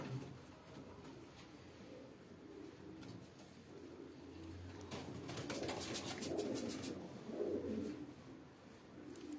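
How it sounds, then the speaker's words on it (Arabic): Pigeons coo in a loft, low murmuring calls swelling in the second half, a few brief sharp clicks among them, moderately close and quiet, with no voices. "هاد الحمام تقريبا انت اللي تيحبس اخويا ايوب"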